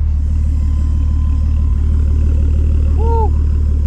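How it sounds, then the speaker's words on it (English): Nissan 240SX with an RB engine idling, its quiet exhaust giving a loud, steady low rumble with a brief higher tone near the end. "This exhaust is so quiet, I can't get over that."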